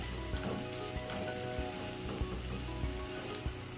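Ginger garlic paste sizzles with sliced onions in a hot pan, a steady close crackle of frying with faint stirring scrapes and no talk.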